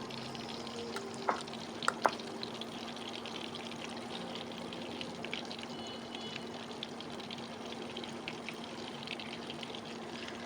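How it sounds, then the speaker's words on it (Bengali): Chicken mince pakoras frying in oil, a steady low crackle and bubbling sizzle running throughout, with a few brief clinks near the start. "বাকিগুলো সেম প্রসেসেই কিন্তু ভাজতে হবে"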